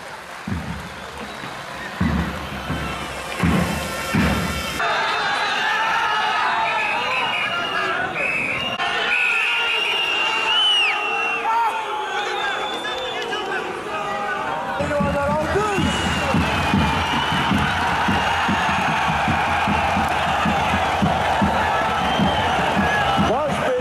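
Crowd at a Turkish oil wrestling event in Kumluca applauds the wrestlers, a sustained wash of clapping and cheering running the whole stretch with a loud announcer talking over it.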